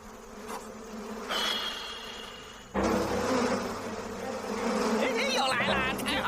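Bees buzzing in a kung fu film scene, a steady insect drone heard mostly under bursts of louder commotion and voices, with a thin whining tone rising partway through.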